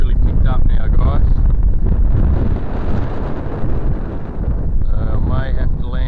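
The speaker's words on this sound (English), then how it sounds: "Wind's really picked up now" Strong outdoor wind buffets the microphone while a toy camera quadcopter flies, making a loud, continuous rumbling roar that lasts the whole clip, with a high buzzing drone whine showing at the start and again near the end.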